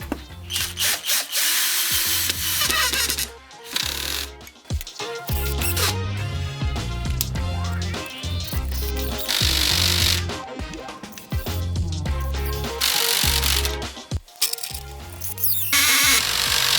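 A Ronix cordless screwdriver runs in repeated whirring bursts, driving screws into a soft board with short pauses between runs and clutch ratchet clicks at the end of some drives.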